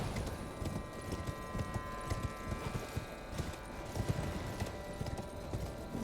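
Horse hooves gallop in Elden Ring, a steady, rapid clip-clop rhythm of close, quiet footfalls running continuously with no talk.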